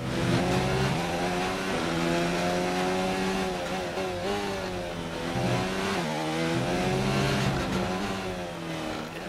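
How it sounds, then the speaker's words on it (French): A Formula 1 car's engine in the F1 2019 racing game screams loud and continuous through a qualifying lap in Russia, its pitch rising and falling through gear shifts with no talk over it. "On passe sous le pont. Très bonne balance de la monoplace Leclerc."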